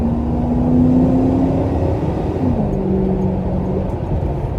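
A 2003 Ford Mustang Mach 1 with a four-valve-per-cylinder V8 and shaker scoop accelerates in a steady, loud pull. It rises through the gears and shifts once partway through, heard from inside the car with no talk over it.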